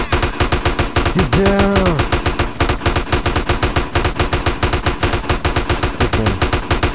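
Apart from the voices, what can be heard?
gunfire in the video game GTA San Andreas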